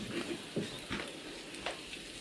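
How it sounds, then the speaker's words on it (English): Onions caramelising in a pan, a soft, fairly quiet sizzle broken by several scraping stirs spaced across the couple of seconds, close by with no voices. "So I'll stop cooking the caramelised onions now because I reckon they look pretty close to done."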